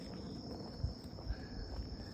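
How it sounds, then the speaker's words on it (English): Crickets chirp in a steady, faint, continuous high trill across an outdoor community at night, with a soft rumble and a few light thuds beneath. "you can hear a lot of crickets"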